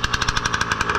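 Baja 5B RC car gas engine idling after first fire on a budget billet build, a loud close rapid chatter of evenly spaced sharp pulses at a steady rhythm.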